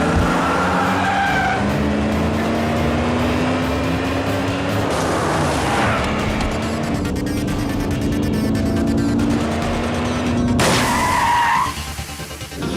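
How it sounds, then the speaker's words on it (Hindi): A car skids with a long, loud tyre squeal after a tyre puncture, the pitch shifting as it slides, then cuts off abruptly near the end, leaving a brief quieter tail. "गाड़ी का टायर पंचर हो गया"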